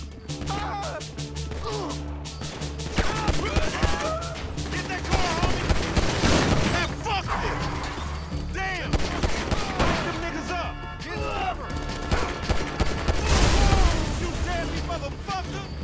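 Rapid bursts of Grand Theft Auto V gunfire crackle almost nonstop, sharp overlapping shots and automatic volleys mixed with booms, while voices talk over the shooting.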